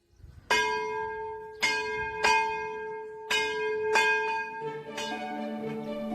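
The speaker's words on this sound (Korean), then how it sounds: "교회 중심에 우뚝 솟은 종탑에서 나오는 생명의 종소리가 예배의 시작을 알리고 있습니다" An old church bell rings from a tall bell tower at a church in Andong. Six or so loud, resonant strikes come at uneven intervals, and each hum lingers and overlaps the next, with no talk.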